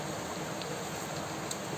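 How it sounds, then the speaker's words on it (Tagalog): Heavy rain pours down steadily near an outdoor cooking spot, a dense, even hiss with no breaks and no voices. "Lakas ng ulan guys."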